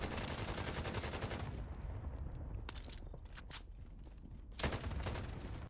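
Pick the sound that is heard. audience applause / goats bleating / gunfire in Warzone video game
gunfire in Warzone video game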